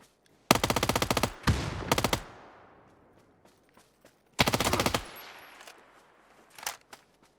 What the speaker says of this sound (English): if you're shooting for the legs with the JS-9